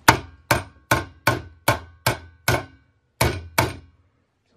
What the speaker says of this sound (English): I'm gonna take the hammer and I'm gonna put it back where it belongs.